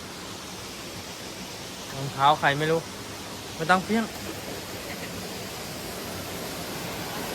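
A waterfall rushes in a constant broadband roar, with someone speaking briefly in two short bursts over it before the steady water noise carries on alone.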